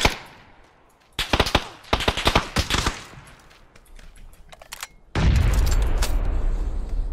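Grenade explosions and gunfire in a shooter video game with a Kar98k rifle: a quiet lead-in, then loud clusters of rapid shots, a lull, and a heavy sustained blast rumble that fills the final seconds.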